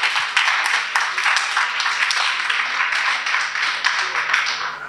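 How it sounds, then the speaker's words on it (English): Audience applause at a human development innovation conference, a dense, sustained patter of many hands clapping at moderate volume for several seconds with no speech over it. "Let's give her another round of applause."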